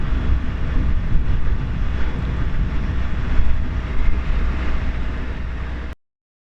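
Narrowboat engine run at full throttle while crawling slowly along the Ribble Link waterway, a steady loud broadband drone with low rumble and wind buffeting, continuous without talk until it cuts off abruptly near the end.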